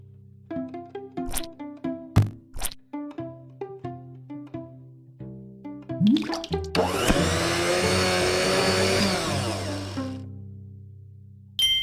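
In an educational video game, a cartoon blender whirs loudly and steadily as it blends a smoothie from carrot and other ingredients, following a run of short plinking musical game tones and clicks.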